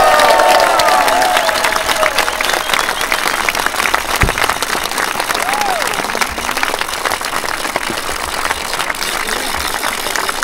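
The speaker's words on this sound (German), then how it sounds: "unter großem Beifall" Sustained, dense applause from a crowd greeting double world ski-jumping champion Carina Vogt at a civic reception in Schwäbisch Gmünd, steady and loud throughout with scattered cheers and some voices mixed in.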